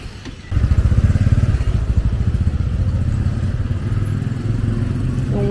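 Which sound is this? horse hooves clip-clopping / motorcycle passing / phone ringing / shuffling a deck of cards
motorcycle passing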